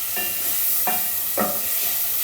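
Chicken with garlic and ginger sautéing in a pan, a soft continuous sizzle broken by three short scraping stirs of a spoon.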